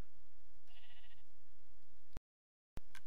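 A Minecraft sheep gives a single clear bleat over a faint game background, followed by a brief silent gap and a short sharp click.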